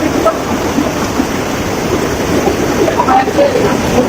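Waterfall at Melkhum in the Chittagong hill forest, a steady broadband roar of falling water close by, continuous and fairly loud with no talk over it.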